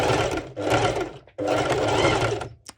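A sewing machine stitches along the edge of an underwire ruched top, running in two loud, sustained whirring bursts with a short pause between them, very close.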